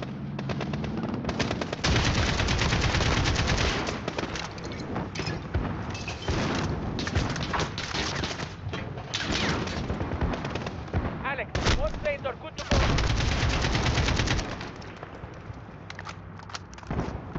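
Dense gunfire in Call of Duty Modern Warfare (2019), rapid automatic bursts and heavy booms rolling almost continuously, loud and near, with brief lulls between volleys.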